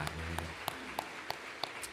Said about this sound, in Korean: 우리와 함께 하신 하나님 앞에 우리 감사의 박수 다시 한번 드립시다